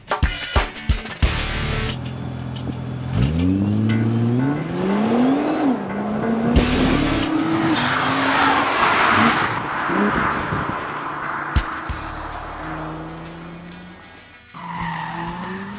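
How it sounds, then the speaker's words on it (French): Nissan GT-R driven hard, with rising and falling engine and transmission whine sweeping up through the gears, tire squeal and skidding, and busy mechanical and rolling noise, loud and close throughout. "la japonaise émet tout un tas de bruits de transmission, de moteur, de roulement"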